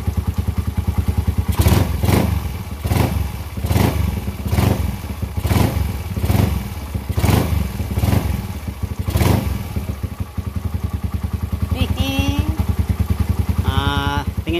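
Motorcycle fitted with racing camshafts idling and revving, a loud engine with a steady run of rhythmic throttle blips roughly every second, then settling into idle, with brief voice fragments near the end.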